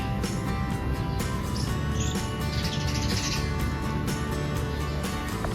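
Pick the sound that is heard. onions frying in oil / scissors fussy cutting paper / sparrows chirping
sparrows chirping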